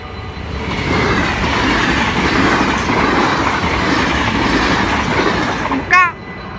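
Train rolling past on rails, a loud sustained rumble with rhythmic wheel clatter for several seconds, ending in a brief high squeal or horn-like tone near the end; a voice is faintly audible.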